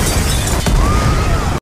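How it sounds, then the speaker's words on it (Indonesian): A bomb detonates and destroys a large house in an action film, a loud crashing, shattering blast with debris breaking apart, sustained at full volume. "Saat itu pula ledakan yang dahsyat terjadi"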